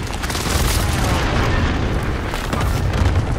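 An air strike explodes in a video game, a heavy rolling boom with rumbling low-end blasts that sustain across the moment, loud and without speech.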